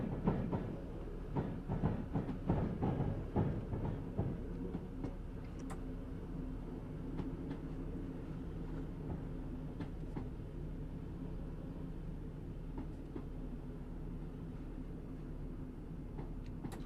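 Pendolino train running in Train Simulator, a low steady rumble of rolling wheels with rhythmic clicks from the track, busier at first and then settling into an even, quiet drone.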